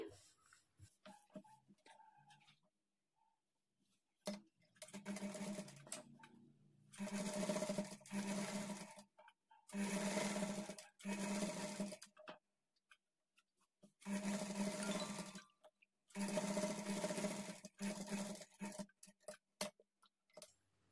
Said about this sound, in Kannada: ನೋಡಿ ಈ ಥರ ನೀಟಾಗಿ ಓಪನ್ ಮಾಡಿಕೊಂಡು ಇದ್ರ ಮೇಲೆ ಇನ್ನೊಂದು ಟಾಪ್ ಸ್ಟಿಚ್ ಹಾಕ್ಕೊಳ್ಳಿ